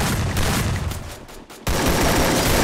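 Gunfire from the mobile battle royale game Garena Free Fire, a dense continuous fusillade that drops out briefly near the middle and then resumes loud and sustained to the end, with no talk over it.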